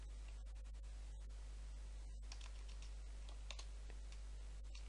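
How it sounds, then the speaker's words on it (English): Computer keyboard keys clack in quick bursts of typing with brief pauses, quiet and close over a low electrical hum, with no talking. "this time I'm going to type dot para"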